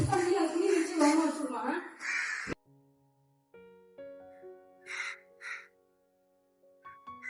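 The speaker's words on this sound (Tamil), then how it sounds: "இதுதான் தாய் காக்கா." A mother crow caws near a rooftop terrace after a tree was cut, two loud harsh calls in quick succession following a stretch of speech, with tonal sounds between them.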